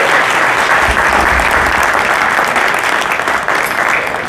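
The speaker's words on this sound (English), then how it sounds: "Let's give them a round of applause." A large audience at a Chicago business networking event held at Soldier Field applauds sponsors, a loud, sustained roar of clapping that stays even throughout before easing slightly at the end.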